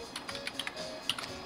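Quick, irregular keystrokes clatter on a computer keyboard at close range, with a sharper final tap, alone without talk.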